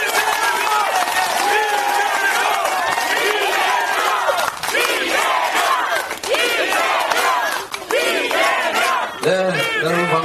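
Dense crowd shouting and cheering at an outdoor Democratic Party campaign rally in Gunsan, with many voices yelling together at high volume throughout, a few brief dips in the roar, and overlapping shouts near the end.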